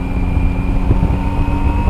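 A Zontes 703F motorcycle cruises in sixth gear on an expressway at around 100, giving a steady low engine and exhaust drone mixed with wind rush, continuous and fairly loud, with no voices.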